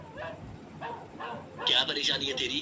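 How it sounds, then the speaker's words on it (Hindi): A small black dog barks sharply a few times, loud and close, right after someone speaks in Hindi. "वो कुत्ता उसे ही देखकर भौंक रहा"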